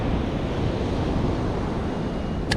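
Surf washes continuously onto Easington beach during sea fishing, a steady loud roar of breaking water mixed with wind buffeting the microphone, with no talk.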